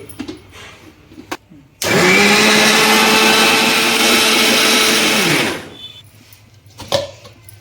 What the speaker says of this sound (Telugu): ఇవి మిక్సీకి వేసుకున్నామండి మిక్సీకి వేసుకున్నామండి